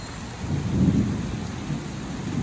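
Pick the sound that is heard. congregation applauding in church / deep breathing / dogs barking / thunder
thunder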